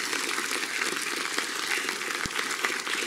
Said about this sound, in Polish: brawa dla wyróżnionego